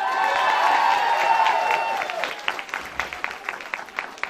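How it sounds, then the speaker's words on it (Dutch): Crowd applause and cheering at a youth election announcement in Winksele-Delle, Herent, sustained and dense at first, then thinning into scattered individual claps toward the end. "Applaus voor ons Zoma!"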